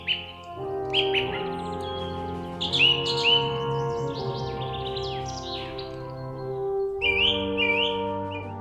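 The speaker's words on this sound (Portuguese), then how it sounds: "o silêncio quebrado apenas pelo canto de aves alpinas" Alpine birds sing in a quiet Austrian mountain village setting, with bright repeated chirps and trilling phrases over a soft sustained background tone, close and clear, with no talking.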